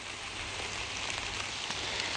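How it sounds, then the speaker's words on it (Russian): Steady rain falls on a cold mid-September day in a vegetable garden near a forest, a constant soft patter with scattered closer drops and no voices. "Долго мы уже, конечно, ждали этого дождя."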